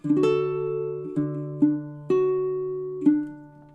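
D: Baritone ukulele picking measure 13 of a song, a short run of plucked notes with a few fresh attacks that ring and sustain over about four seconds, clear and close with no talking.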